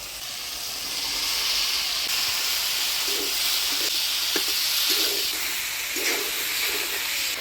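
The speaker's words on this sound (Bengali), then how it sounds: "এবার ভাজে রাখা আলু ফুলকপি দিয়ে দিই।" Fried potato and cauliflower pieces drop into hot, sizzling spiced masala in a pan, giving a loud, steady hissing fry with soft stirring scrapes throughout.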